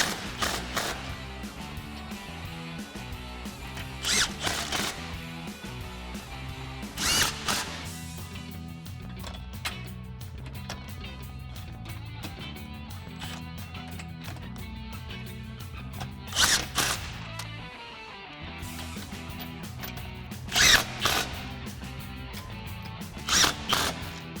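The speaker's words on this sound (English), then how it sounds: "now we'll grab our 15mm socket and tighten all of these down." Bolts are tightened on a 2021-2024 Ford Bronco Rough Country nudge bar with a 15mm socket ratchet, giving repeated bursts of clicking ratchet strokes with short pauses and a low steady hum beneath, with no talk.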